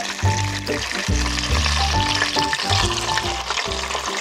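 A pizza cooking in a small container sizzles and fries loudly and steadily, with a constant crackling hiss up close and no voices over it.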